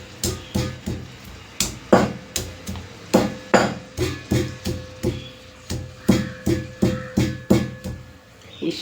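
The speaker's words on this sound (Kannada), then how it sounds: "ಇನ್ನು ಫ್ರೆಂಡ್ಸ್ ಬನ್ನಿ ಇದನ್ನು ಪಲ್ಯಕ್ಕೆ ಮ್ಯಾಶ್ ಮಾಡ್ಕೊಳ್ಳೋಣ." Vegetables for a palya side dish being mashed by hand, a steady run of firm thudding strikes about twice a second, close and loud, with no voices.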